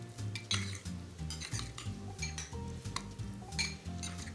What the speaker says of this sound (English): Now I'm going to stir all of our garnishes here just to incorporate all the seasonings.